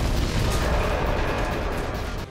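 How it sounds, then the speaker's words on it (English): A massive explosion tears through a bus station in the Steven Seagal film The Foreigner, a loud, dense roar that sustains for a couple of seconds before tapering off. "And holy f***, that is a massive explosion."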